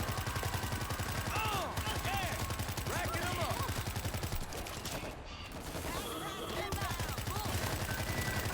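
Dense, rapid automatic gunfire from the zombie shooter World War Z, New York level, rattling almost without pause for several seconds with a brief dip midway, loud and close, with a voice talking at times.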